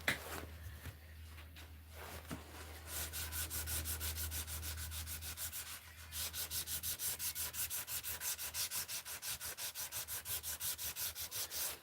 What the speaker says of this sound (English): this is just a piece of that same sandpaper folded in half